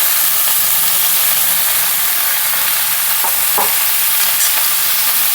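Shredded, washed cabbage is stirred in a hot pan, giving a loud, constant sizzle and hiss with a few sharp scrapes of the spoon against the pan.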